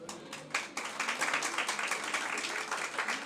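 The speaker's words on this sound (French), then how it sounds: "ce sont des applaudissements bien mérités" A room full of people applauding at a philosophy program review session at a school, clapping that swells quickly and continues steadily and densely for a few seconds.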